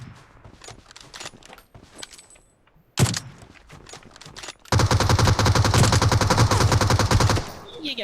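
An M249 light machine gun in PUBG Mobile rattles off a long, loud, steady stream of rounds up close after scattered earlier shots and small clicks, with a player speaking briefly before it.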